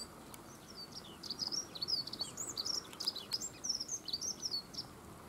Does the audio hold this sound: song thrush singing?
yes